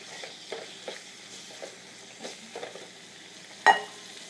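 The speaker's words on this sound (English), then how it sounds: "So I'm gonna drop our pork. Just cook it till the pork turns white." Pork cooks in a pan for pancit palabok with onions and garlic, a faint steady sizzle broken by soft scraping stirs and one sharper clink near the end.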